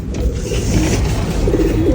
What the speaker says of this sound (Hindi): ये नई जगह कबूतर को मिल गई है अंडे देने की।